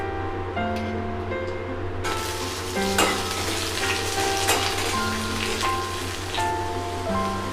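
Dried red chillies, bay leaf, whole cumin and chopped onion frying in hot oil, a loud continuous sizzle with scattered stirring scrapes and knocks, close up.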